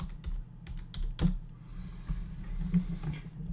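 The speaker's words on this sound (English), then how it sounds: "we're going to type them into this box one at a time" Keys clatter on a computer keyboard during an online keyword search, a close run of uneven taps and a few sharper strokes, with no speech.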